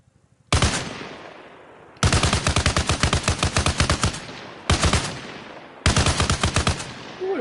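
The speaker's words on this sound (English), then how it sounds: "What a 50 cal gun." Bursts of heavy .50 cal machine gun fire in the video game Arma Reforger, loud and close, with rapid thudding shots in several long strings separated by short pauses.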